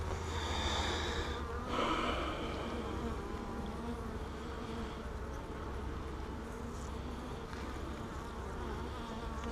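Honeybees hum steadily inside an open hive holding queen cells and capped queen cells, a dense, continuous close-up buzz that stays at the same level throughout with no talking.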